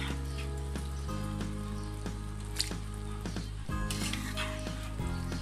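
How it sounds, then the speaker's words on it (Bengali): Cooked beef pieces tumble onto beef tehari rice in a pot over low heat, giving a steady soft sizzle with scattered scrapes and stirring clinks throughout. "মাংসগুলো আমি দিয়ে দিচ্ছি এর উপরে।"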